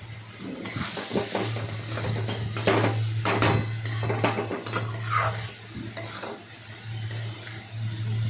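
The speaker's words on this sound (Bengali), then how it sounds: "তারপর ভালোভাবে ভাজলাম ভালোভাবে নাড়াচাড়া করলাম" Spices frying in oil for egg ghugni, a close sizzle with repeated spoon scrapes and clinks against the pan as it is stirred, over a low steady hum, with no talk.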